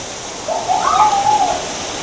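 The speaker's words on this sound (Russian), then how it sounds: "Водопад." Mountain waterfall on a forest trail near Gelendzhik, a constant broad rushing hiss of falling water filling the scene, with a brief soft cooing bird call rising over it midway.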